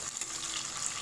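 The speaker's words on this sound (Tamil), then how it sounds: "ஒரு பத்து மிளகாய் எடுத்து இந்த மாதிரி நல்லா எண்ணெயில் நல்லா பொரிச்சுக்கணும்" About ten red chilies fry in hot oil with water spattering from washed dal, giving a faint, continuous hissing sizzle with scattered crackles and no talk over it.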